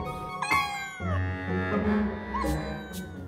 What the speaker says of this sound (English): Until random meows started coming from 50 feet above.